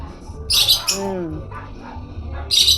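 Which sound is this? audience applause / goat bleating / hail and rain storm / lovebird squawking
lovebird squawking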